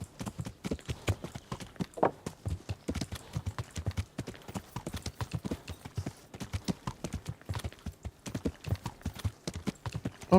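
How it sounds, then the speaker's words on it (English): Horse galloping in Kingdom Come Deliverance, a steady rapid clip-clop of hooves running throughout with heavy, labored breathing as the horse tires from low stamina. "You can actually hear your horse start to breathe harder."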